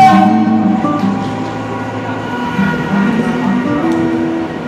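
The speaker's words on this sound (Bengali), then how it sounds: "3:24 লালগোলা শিয়ালদা মেমু স্পেশাল ধরলাম।" A Lalgola–Sealdah MEMU special train at Barrackpore station gives a loud, close electric horn and tonal hum, with rumbling and wheel clatter as the train runs, and no voices.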